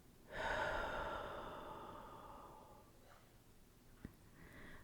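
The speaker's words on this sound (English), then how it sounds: "We're going to take a deep breath in. And we're going to exhale." One deep breath drawn in and slowly let out, a breathy rush that swells quickly and then fades over a few seconds, close and fairly soft, followed by faint small sounds and no talking.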